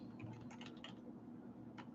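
Fast typing on a computer keyboard, a quick run of close, light key clicks over a steady background hum, with no voices.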